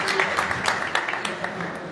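An audience claps to welcome a guest at a Gurgaon event honouring a former Indian hockey player, with quick, sharp claps in a loose rhythm under someone speaking loudly nearby.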